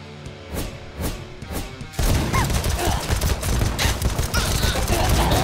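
Rapid tap-fired shots from a weapon in the video game AK-Xolotl, a burst of distinct cracks giving way to dense, loud continuous gunfire and impacts.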